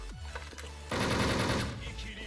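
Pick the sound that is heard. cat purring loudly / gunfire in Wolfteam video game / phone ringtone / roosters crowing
gunfire in Wolfteam video game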